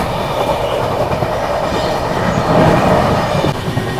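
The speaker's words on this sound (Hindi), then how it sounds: "ये आ गई गोड्डा नई दिल्ली हमसफर एक्सप्रेस पैरेलल" The Godda–New Delhi Humsafar Express rushes past on a parallel track, loud and close, with a continuous roar of rolling coaches and rhythmic wheel clatter throughout.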